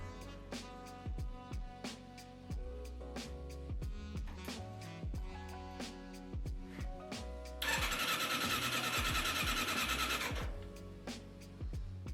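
A Suzuki GS1100G motorcycle engine cranks and starts up after fitting sports air filters, with rhythmic starter chugging, a loud rough burst of running, then more sputtering turns, close and alone.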